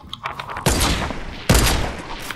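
Two loud, close gunshot bursts in the video game Fortnite, each striking hard and trailing into a noisy rumble, spaced under a second apart.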